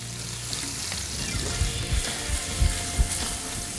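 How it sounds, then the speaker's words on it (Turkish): Onions frying in melted butter, a continuous close sizzle with a few soft stirring knocks and thumps scattered through it. "Evet tereyağımız eridi. Biz soğanlarımızı ilave edelim."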